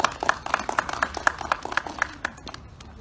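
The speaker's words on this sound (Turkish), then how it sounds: "orada bulunan vatandaşlar avukatlara alkışlarla destek verdi" Citizens clapping for lawyers after a press statement outdoors, a scattered group of individual handclaps in an uneven rhythm, moderately close, thinning out toward the end.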